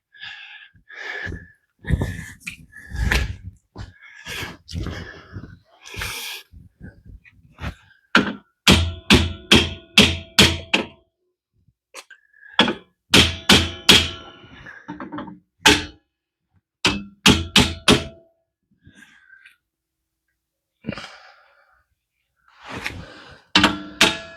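A hammer strikes the top plate of a Ford 8.8 rear axle during a swap outdoors in snow, sharp metallic taps in quick bursts and short clusters separated by pauses, close and loud.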